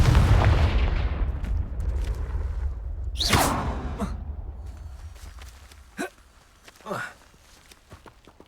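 Confringo fire spell in the Hogwarts Legacy video game bursts with a booming blast at the start, then swooshing spell effects and scattered footsteps and thuds follow.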